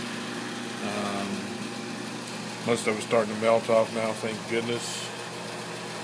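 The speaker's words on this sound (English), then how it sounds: "Pardon the noise, that's my heat pump going." A home heat pump runs with a steady mechanical hum and drone throughout, heard on an icy day and partly covered by a person talking close by.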